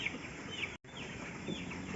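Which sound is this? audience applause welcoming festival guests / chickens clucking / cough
chickens clucking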